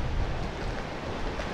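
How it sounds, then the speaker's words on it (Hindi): River water flowing on a frozen Himalayan gorge trek in bitter cold, a steady broadband rush of current with wind noise, continuous and fairly loud with no talk. "और ये आप पानी देख सकते हैं यहाँ पे क्या फ्लो है."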